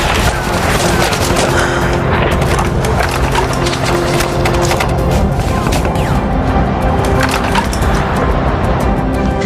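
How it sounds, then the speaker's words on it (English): Gunfire at a war reenactment crackles in dense, rapid bursts of overlapping shots, loud and close, and never lets up. "The enemy kept firing at us."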